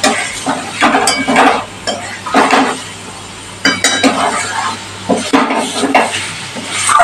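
Meat being stirred and fried in a pan for ghugni: loud metal spoon scrapes and clinks in uneven bursts over a low sizzle, close and busy.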